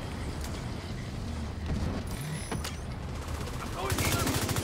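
Gunfire from above in The Division 2, a steady rattle of shots through the clip that grows denser and more rapid toward the end, with game ambience underneath.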